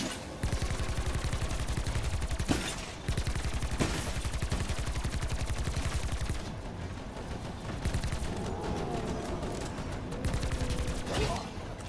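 Rapid, loud automatic gunfire in Call of Duty Black Ops 4 Zombies, sustained bursts with brief gaps and sharper single shots, a voice talking faintly underneath.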